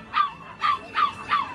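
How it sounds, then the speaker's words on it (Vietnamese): A white bạch khuyển hunting-mix dog at a Hai Phong pet market gives four short, evenly spaced yipping barks. The barks are moderately loud over a faint background murmur, and no one talks over them. "Chưa cho em hỏi cái con chó trắng này giống gì mà đẹp này"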